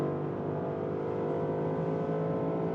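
A Porsche Panamera GTS accelerates hard in normal mode, its engine giving a loud, steady, rising drone close to the listener with no pauses.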